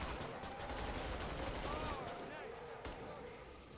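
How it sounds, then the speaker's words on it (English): Rapid gunfire from a fast-firing weapon in the co-op shooter Killing Floor 2, a dense continuous burst of shots layered with game effects, loud and steady throughout. "This gun fires quick."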